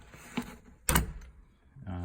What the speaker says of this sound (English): This is how you open the door.